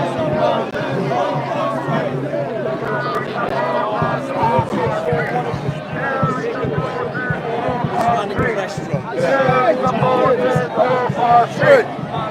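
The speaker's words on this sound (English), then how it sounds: "They're booing from that side." A marching crowd at a London protest keeps up a dense, continuous roar of booing and shouting voices, loud and close, with chanting mixed into the din.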